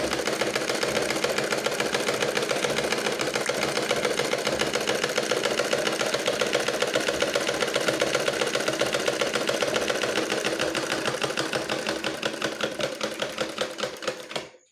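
A sewing machine at a tailoring workshop stitches fabric in one long, continuous run. Its fast, even needle clatter stays loud and close for about fourteen seconds, then stops abruptly, with no talking.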